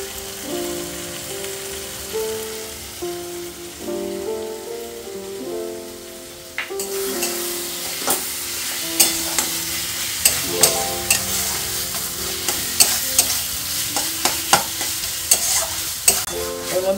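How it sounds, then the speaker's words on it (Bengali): Coriander leaves being stirred into dried fish bhorta in a pan, starting with soft background music, then close, loud scraping and stirring clatter over a steady sizzle. "এর সাথে ধনে পাতাগুলো আমি এর মধ্যে মিশিয়ে দেবো।"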